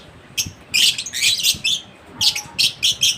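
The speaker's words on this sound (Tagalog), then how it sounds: "narinig niya yung mga huni o boses ng ating mga ibon" Lovebirds chirp in quick, bright bursts, several close calls in uneven clusters, loud against a quiet background.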